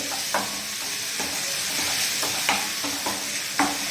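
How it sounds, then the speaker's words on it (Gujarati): Garlic and ginger sautéing in butter over a full gas flame for paneer chili, a steady background sizzle broken by several sharp spoon scrapes and stirs against the pan. "લસણની અને આદુની કચાશ દૂર થાય ત્યાં સુધી આપણે એને બટરમાં સાતળીશું."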